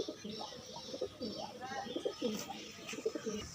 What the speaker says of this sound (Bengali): এটাও মাদি পায়রা